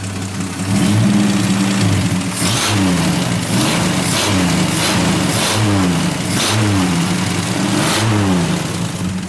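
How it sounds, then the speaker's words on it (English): A loud Plymouth Valiant engine revs repeatedly with its exhaust removed, rising and falling surges, raw and unmuffled, close by with no talking. "there's when it's revved right there, where the exhaust is cut off"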